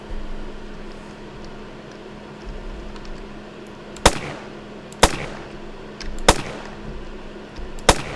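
A first-person shooter weapon fires in a Godot Doom-clone game: four sharp, evenly spaced shots over a steady low hum, the first coming only after about four seconds of near quiet.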